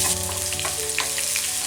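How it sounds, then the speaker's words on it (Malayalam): Chopped shallots fry with mustard seeds in hot oil, a dense, continuous sizzle close up with a few sharp crackles and pops, no voices. "കടുക് പൊട്ടി വരുമ്പോഴേക്കും ചെറിയുള്ളി അരിഞ്ഞുകൂടി ചേർത്ത് കൊടുക്കാം."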